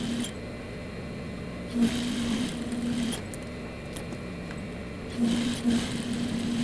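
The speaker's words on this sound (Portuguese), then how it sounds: "Eu costurei aqui na lateral do forro, na outra lateral" A sewing machine stitching the fabric lining of a farmhouse-style bread basket, running in short bursts with a steady mechanical whir, pausing and restarting, close and moderately quiet.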